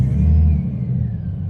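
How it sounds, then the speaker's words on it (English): Mercedes SLK32 engine with an upgraded torque converter and 722.6 transmission, revving hard against the brake in gear during a stall test; a loud, close, steady low rumble that eases slightly after the first half-second and holds. "we're actually going to test that little torque converter to see how high up we can get the RPMs"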